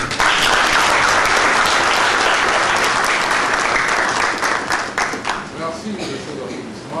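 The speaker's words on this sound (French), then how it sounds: "Merci de ces applaudissements." Wedding guests break into loud, close applause that fills the room for several seconds, then thins out as voices begin talking near the end.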